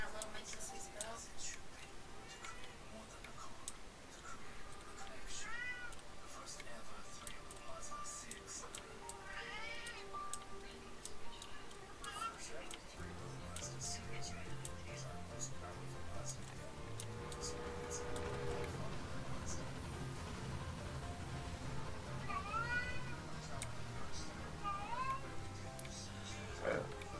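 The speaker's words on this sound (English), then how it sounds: "You hear meows? Yeah, so do I." A cat meows repeatedly, with clear rising and falling calls in scattered bursts, heard over a steady background hum and faint ticking.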